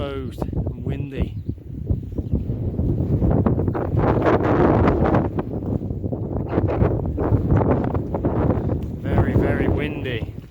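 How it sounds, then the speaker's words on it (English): Strong wind buffeting the microphone on an exposed hilltop along the South Downs Way, loud and gusty roaring rumble throughout, with a person talking over it. "Where I am now, it's exposed and windy."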